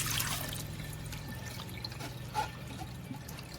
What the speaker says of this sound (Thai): ในส่วนของสาคูครับเราก็จะนำมาล้างสักสองสามน้ำนะครับ